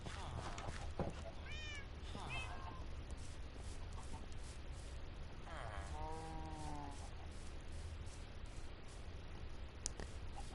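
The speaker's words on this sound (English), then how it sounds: "I know that there was a cat down here." Two Minecraft cat meows sound over a constant game ambience, a short one early and a longer, drawn-out one midway, with scattered light taps and clicks around them.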